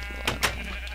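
Sheep bleating in a pasture in a video game: two short, close bleats in quick succession over a steady low background hum.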